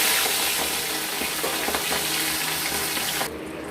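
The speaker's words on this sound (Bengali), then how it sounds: "আমরা মাছ একটা একটা করে ভেজে নেব" Pomfret fish frying in a pan for a spicy curry, a steady loud sizzle of hot oil with faint scraping, cutting off abruptly near the end, no voices.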